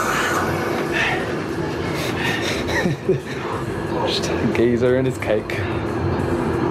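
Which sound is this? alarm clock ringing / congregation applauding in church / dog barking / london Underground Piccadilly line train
london Underground Piccadilly line train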